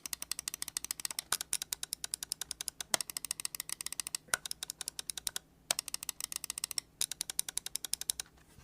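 Rapid optical switch clicks from Razer Cobra Gen 3 and Viper Mini gaming mice, a long run of sharp, close, evenly spaced taps in quick bursts with brief pauses, clear and alone.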